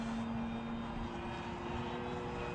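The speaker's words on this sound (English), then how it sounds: "This plane is awesome." An FMS Pitts 1400mm RC airplane drones overhead with a steady, buzzing electric-motor whine and a sustained tone, moderately loud and unbroken, with no talking.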